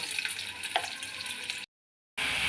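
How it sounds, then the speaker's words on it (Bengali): Pointed gourd pieces fry lightly in mustard oil in a wok, a steady broad hiss of sizzling that cuts out briefly to silence and then resumes, with no voices. "বেশি ভাজবো না, হালকা করে পটলগুলো ভেজে নেব।"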